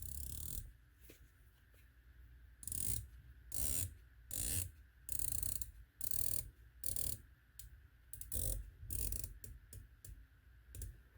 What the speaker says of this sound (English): Audible clicks, as you could obviously hear, are almost second to none.